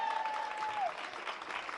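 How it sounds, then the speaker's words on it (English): A comedy show crowd claps in a short, faint spatter of applause, heard from a distance. A thin tone holds steady under it, then slides downward. "Everybody clap for my mother."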